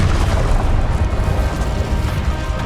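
An Incendio fire spell cast in Hogwarts Legacy, a loud, dense burst of roaring flame that holds steady throughout with no voices.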